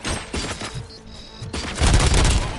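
Gunfire in the video game RoboCop: Rogue City, with loud bursts of rapid shots and booming impacts in short volleys, growing heavier toward the end.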